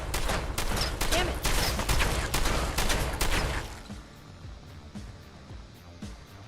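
Rapid shotgun blasts from combat in Fallout 4, a loud string of sharp, closely spaced shots for about three and a half seconds, then a few quieter, scattered shots as the firing dies down.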